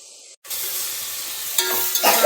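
Onions frying in a pan for chicken biryani, a dense close sizzle that cuts out briefly near the start, then returns steadily, with louder stirring bursts toward the end and no talking.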